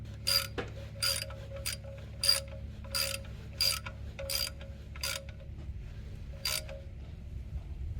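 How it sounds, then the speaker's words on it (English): A ratchet wrench tightens the oil drain plug on a Lexus IS 250, producing about nine quick bursts of clicking pawl ratcheting in an uneven rhythm, close up over a low steady hum, with no talking. "now we're putting back the drain plug"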